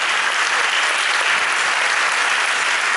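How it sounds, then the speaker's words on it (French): An indoor audience at a junior mass band event gives the band instructors loud, dense, continuous applause, an even wash of clapping from start to finish. "Je pense qu'on peut tous les applaudir parce que c'est sportif derrière."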